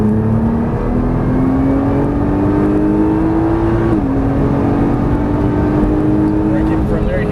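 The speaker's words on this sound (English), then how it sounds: "Once you get the wheel straight, full throttle all the way down here." A Nissan GT-R at full throttle on a race track, its engine pitch climbing steadily, then dropping at a gear change before rising again, loud and constant while someone talks over it.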